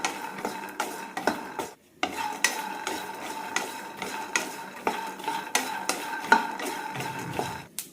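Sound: peanuts being stirred while roasting in a pan

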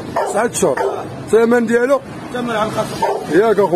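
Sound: dog barking at a market

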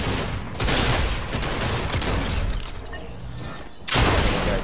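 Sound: flare gun shots in a video game

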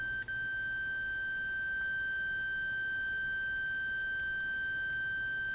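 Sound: continuity tester beep through a radio slide switch

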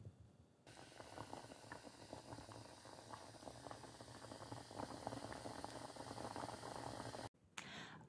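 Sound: prunes stewing in boiling water

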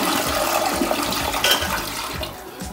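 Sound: toilet flushing, new toilet replacing porta potty

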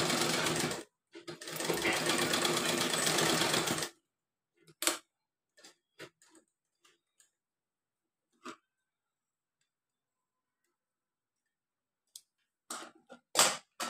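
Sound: sewing machine stitching a dress

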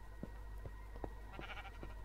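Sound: sheep bleating in the Minecraft video game

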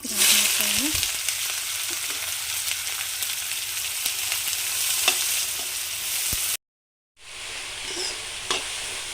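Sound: chopped onions frying in pan

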